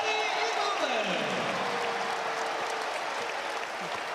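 A basketball crowd applauds and cheers in an arena, sustained clapping and roar while a commentator's voice runs over it, fading slightly toward the end.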